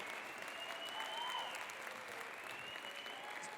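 An audience at a charity gala applauds performers leaving the stage, steady dense clapping from a crowd at moderate distance, continuous throughout with faint tones ringing underneath.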